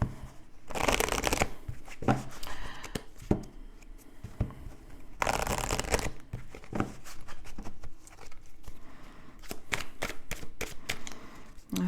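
Oracle cards are shuffled by hand in repeated bursts of fast riffling and flicking, close and crisp, with brief pauses and lighter taps between the longer shuffles.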